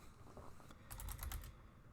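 A short run of computer keyboard keystrokes typing a terminal command, a quick cluster of clicks near the middle over faint room noise, with no talking.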